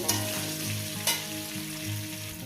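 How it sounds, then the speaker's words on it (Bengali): Mukhi kochu and fish fry in a pan, a continuous loud sizzle with low rhythmic rumbling from stirring and two sharp clatters of a utensil. "সাত মিনিট আট মিনিট ধরে আমি এটাকে ভাজবো"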